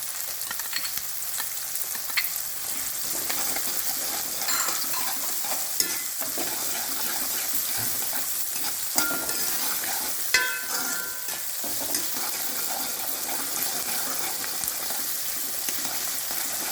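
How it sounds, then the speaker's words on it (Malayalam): Garlic and ginger frying in a pan for Kerala-style onion theeyal curry, a continuous close sizzle with repeated stirring scrapes and occasional utensil taps. "നമുക്ക് വെളുത്തു വെളുത്തുള്ളിയും ഇഞ്ചി ഇട്ട് കൊടുക്കാം"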